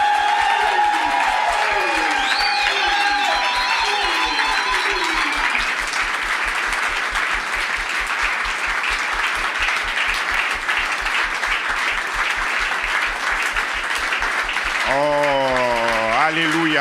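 Sustained applause and cheering rise from a worship congregation hailing the King of Kings. Steady, dense clapping runs throughout under a rhythmic low beat, with scattered shouts early on. A voice breaks in near the end.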